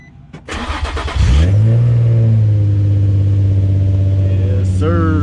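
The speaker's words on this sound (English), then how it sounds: "Get a little cold start for you guys." A car engine cranks briefly on a 36-degree Chicago winter morning, catches and roars into a loud high idle, holding steady and close, with a short rev near the end.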